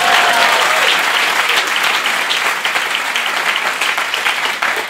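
A comedy-show audience applauds loudly and continuously, a dense, even wash of many hands clapping close by that holds steady for several seconds before easing slightly, with no speech over it.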